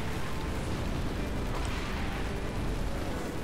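Turret fire and explosions in the video game Halo 3, a dense, loud, continuous roar of booming blasts and gunfire that rumbles without pause and with no clear gaps.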